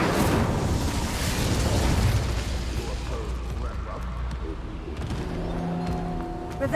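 An Incendio fire spell in Hogwarts Legacy bursts with a loud fiery whoosh at the start, then roars and crackles before settling into a lower rumble with tonal magical hums toward the end.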